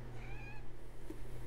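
A house cat gives a single clear, drawn-out meow close by against a steady low background hum.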